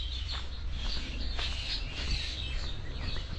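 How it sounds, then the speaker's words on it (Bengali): Birds chirp faintly through a foggy winter morning in a rural Bangladeshi village during the month of Poush, scattered calls over a soft, steady outdoor hiss. "পাখির কিচিরমিচির ডাক"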